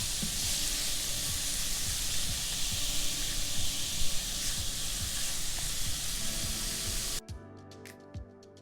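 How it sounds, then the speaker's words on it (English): Beef for lo mein stirred in a hot pan gives a loud, continuous sizzle with soft scraping, then cuts off abruptly near the end, leaving faint kitchen noise. "I'm just gonna keep stirring it, make sure all the sides are cooked"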